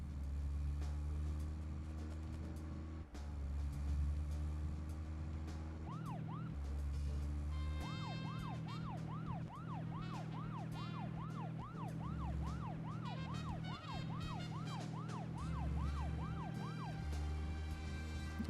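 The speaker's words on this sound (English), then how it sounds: "I love how you just hold down shift and it makes the alarm go." A police car siren in the Deadly Premonition video game wails in a fast, repeating up-and-down pattern over a low steady engine hum, starting with a brief burst and then sounding continuously and loud.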